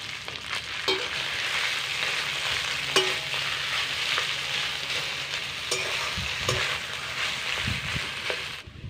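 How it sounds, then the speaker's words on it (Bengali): Boiled potatoes and chopped green chili fry in hot oil with a constant close sizzle, as a spoon stirs and scrapes the pan with occasional knocks throughout. "এবার এর মধ্যে দিয়ে দিচ্ছি আগে থেকে সিদ্ধ করে রাখা আলু।"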